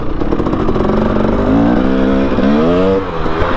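A 2018 Husqvarna TX300 two-stroke dirt bike engine, loud and close, ringing and buzzing as it revs up and down through several throttle blips in a continuous run.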